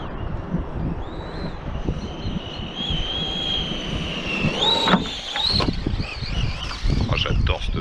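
A DF-Models radio-controlled model car running on a 2S battery whines with a high, rising motor pitch that climbs and drops as it accelerates, close and steady with outdoor wind noise, while people talk nearby.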